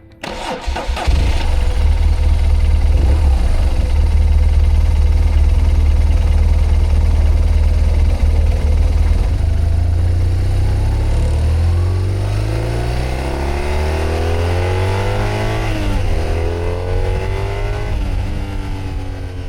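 A 2012 BMW R1200 GS Rallye motorcycle engine fires up and settles into a loud, steady run close by, then climbs and falls in pitch through repeated rising pulls as the bike rides away under throttle.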